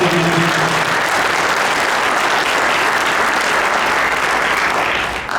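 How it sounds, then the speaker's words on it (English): Sustained loud applause from an audience at a city inauguration ceremony in Derby, honoring the judge of probate; many hands clap in a dense, even roar that tapers off near the end. "we're honored to give a nice round of applause to our current judge of probate, Clifford P. Hoyle"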